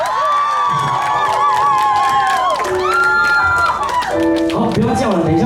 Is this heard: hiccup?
no